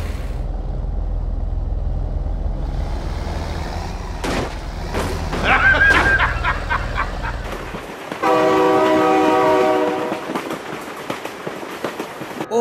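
A train rumbles loudly past in the game BeamNG.drive with sharp clanking bangs, then its horn blares in a long, tonal blast near the end.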